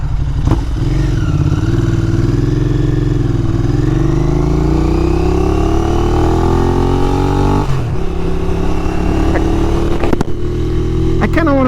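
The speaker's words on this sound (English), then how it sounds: "I kind of want to just keep revving the bike because it sounds so good" A 2021 Royal Enfield Interceptor 650 twin engine revs loudly and close, its pitch climbing and falling through several sustained throttle sweeps with a brief drop near the end, no talking over it.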